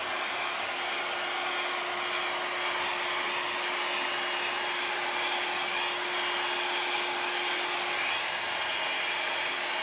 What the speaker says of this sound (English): It's been a while since I used this hair dryer.